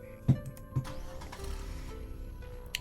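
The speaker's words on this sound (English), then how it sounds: "You turn the key in the ignition, the old car rattling to life." An old car in a video game starts up: a couple of sharp clicks and cranking bursts, then the engine catches into a low rough rattling idle, fairly quiet throughout.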